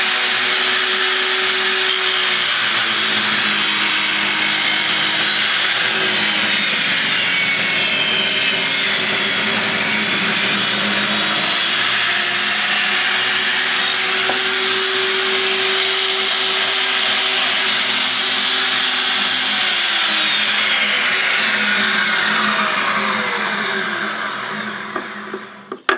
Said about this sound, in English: Not a bad cut for crosscut blade for ripping African mahogany.